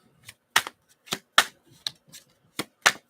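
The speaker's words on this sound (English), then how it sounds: "I think I'm just going to shuffle them in my hands because I don't want to bend these." Oracle cards shuffled loosely in the hands without bending, heard as about seven separate crisp slaps and flicks spread unevenly, close and sharp against near silence.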